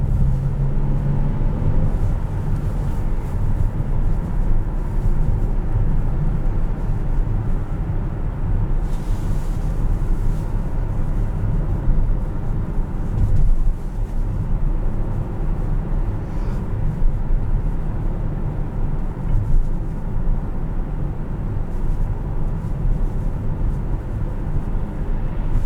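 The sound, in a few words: 2018 Honda Odyssey engine running while driving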